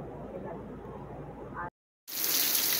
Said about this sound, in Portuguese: que a chuva chegou agora